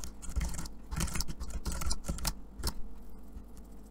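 Keys clatter on a computer keyboard as a prompt is typed into ChatGPT, quick quiet taps in short bursts with brief gaps, close and soft.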